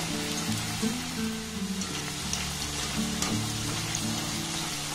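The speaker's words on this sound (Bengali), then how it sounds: "এগুলোকে একটু লাল লাল করে ভাজতে হবে" Besan snacks deep-frying in hot oil, a steady dense sizzle with bubbling crackle running throughout, fairly close, with soft stirring clinks and no talk.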